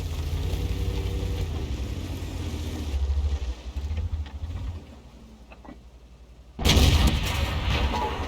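Heavy cannon fire from a Conqueror-class Carnarvon tank in a tank battle game, a deep booming blast over rumbling engine noise, with a second loud report near the end.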